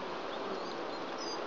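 Honey bees buzz in a steady, dense hum during a hive inspection, a continuous close swarm drone with faint higher whines of individual bees passing near.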